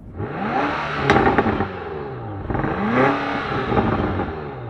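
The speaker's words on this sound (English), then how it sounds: "we got a V8, so it still sounds really good" A V8 engine on a 2025 BMW Alpina XB7 SUV with regular exhaust revs hard twice, the exhaust note rising and falling in a deep, throaty roar heard from close by.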